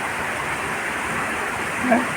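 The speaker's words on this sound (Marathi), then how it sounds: "त्या पोल जवळून कसं पाणी फुटलंय" Floodwater gushes out beside a pole around a farmhouse, a steady loud rushing roar with no break, briefly touched by a faint voice near the end.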